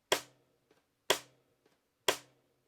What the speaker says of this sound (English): we're going to add a rim click on beat 4.